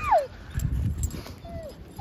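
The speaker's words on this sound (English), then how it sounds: "the dogs are going stir crazy in the house" Dogs whimper and yip outdoors in a snowstorm, with a high whine at the start and another near the end over rumbling wind and low noise.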